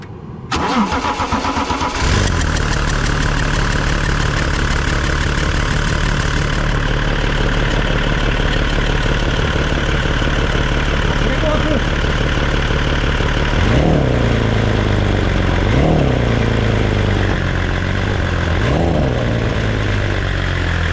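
A BMW 325 TDS engine with an aluminium block cranks and fires, then idles loudly and evenly up close, with a few brief revs near the end.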